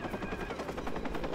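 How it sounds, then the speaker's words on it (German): A helicopter in the video game Watch Dogs gives a steady, loud rotor thrum with rapid rhythmic chopping pulses that hold throughout. "als erstes werden wir dann mal diesen scheiß Helikopter da platt machen"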